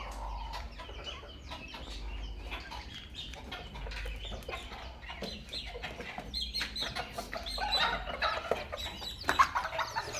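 Day-old ornamental chicken chicks cluck and peep in a steady, moderately faint chorus of short calls close by, with a low background hum and no talking.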